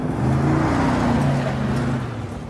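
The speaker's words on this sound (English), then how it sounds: "an available black cat-pack exhaust with an aggressive exhaust note" A Toyota Sequoia TRD Pro with a black cat-back exhaust gives a short, moderately loud rumbling rev that swells and then eases off, heard alone without talk.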